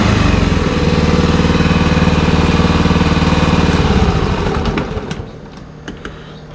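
Hangkai 6hp air-cooled outboard engine running loud and close with a steady rapid chugging drone, its speed dropping and the note loosening toward the end.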